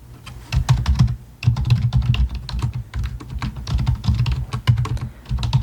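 Rapid bursts of typing on a computer keyboard in a soft-spoken ASMR library roleplay, crisp clicking keystrokes arriving in quick clustered runs with short pauses, close and alone without talk.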